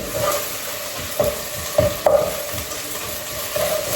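Food sizzles steadily in a pan while a utensil scrapes and stirs with a few sharp clinks against the metal, as tomato paste and beans are sautéed.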